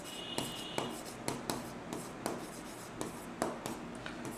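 Pen or chalk writing out a math equation for a quadratic equations lesson, with a rapid series of short scratchy strokes and taps at an uneven rhythm, close and fairly quiet, without any talk.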